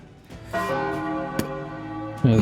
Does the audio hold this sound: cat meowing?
no